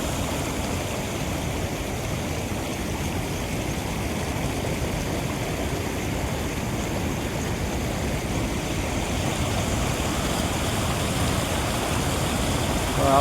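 Floodwater after heavy rain rushing steadily in a loud, unbroken roar at close range, with no pauses or voices over it.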